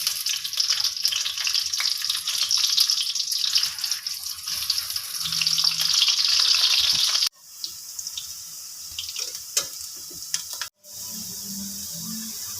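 Onions frying in desi ghee in a kadai, a loud, dense sizzle that cuts off abruptly, then returns as a quieter crackle with scattered pops before resuming steadily.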